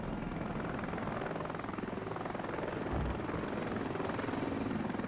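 Apache attack helicopters in the Regiments strategy video game, their rotors giving a steady, dense whirring drone that holds at an even loudness throughout with no talk.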